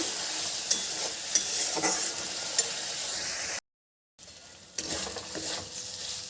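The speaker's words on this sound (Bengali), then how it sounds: "সামান্য হলুদ দিয়ে মশলাটা ভালো করে কষিয়ে নেব" Spice paste with turmeric sautéing in a pan with potatoes and apple, a continuous close sizzle with scattered stirring clinks, a brief silent gap, then more frying.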